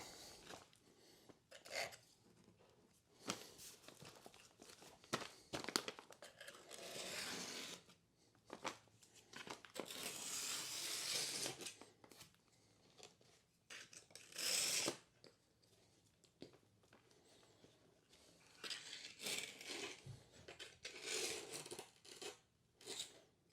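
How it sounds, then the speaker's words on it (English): A pick scrapes excess grout out of the seams of freshly set bathroom tile, making repeated short, scratchy bursts close by, with uneven pauses and no talking. "if there's any grout sticking up or coming out through the seams, just scrape it out"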